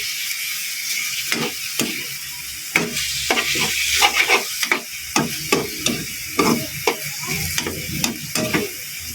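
A spatula stirs sautéed pork, liver, carrots and baguio beans in a pan, clacking and scraping in a quick irregular rhythm over a steady sizzle, close and loud.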